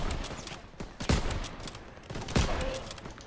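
Machine gun fire in the World War II shooter game Call of Duty WW2, with bursts of shots and sharp impacts recurring under game ambience, loud and close.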